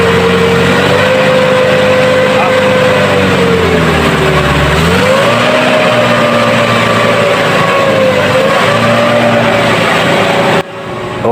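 A Kia Bongo diesel engine with a smoky exhaust runs after a governor adjustment, idling loudly and close, then its pitch dips and rises as the revs shift, before the sound cuts off abruptly near the end.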